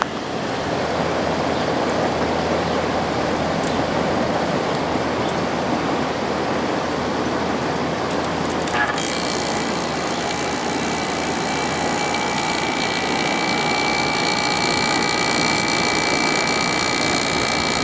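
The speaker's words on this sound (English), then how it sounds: "let's see if we can get the compressor to start" GE 12,400 BTU air conditioner compressor kicking on and running, a steady loud whooshing drone joined partway through by a brighter hum and tonal whine as the compressor starts.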